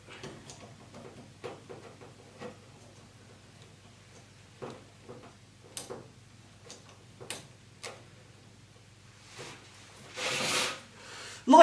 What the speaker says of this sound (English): all we gotta do is screw it into the tripod